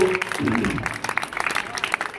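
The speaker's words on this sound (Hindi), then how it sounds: "बहुत जोरदार तालियां बजाओ उसके लिए।" A short burst of clapping from an audience, a dense patter of many hands at moderate loudness.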